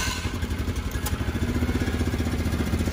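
A small engine fitted with a homemade racing centrifugal clutch runs steadily close by, a loud, even, throbbing rhythm with no talk over it.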